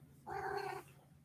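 A house cat lets out a single short, faint meow-like cry in a quiet room, lasting about half a second.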